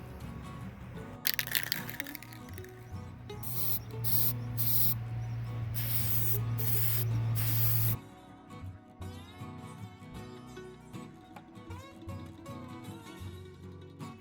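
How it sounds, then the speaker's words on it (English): Bursts of aerosol spray hiss loudly and close as a finish is sprayed onto a small wooden tic-tac-toe game, several short blasts then a longer continuous spray before stopping abruptly. "So we'll go ahead and get that sprayed on"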